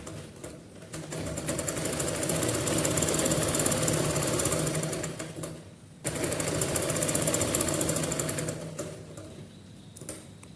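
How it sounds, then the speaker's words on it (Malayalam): Sewing machine stitching churidar fabric, a fast continuous mechanical rattle in two long bursts with a short pause between, close and loud. "ഈ വരച്ചതിൻ്റെ മുകളിൽ കൂടി നമുക്ക് സ്റ്റിച്ച് ചെയ്ത് കൊടുക്കാം"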